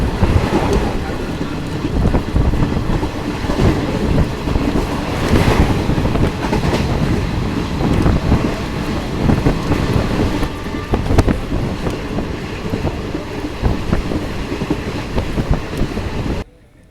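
The 18619 Ranchi Godda Intercity Express runs on rails between Jasidih and Godda, heard as loud, continuous wheel rumble with rhythmic clickety-clack and wind buffeting from inside or beside the moving train. There is no talking.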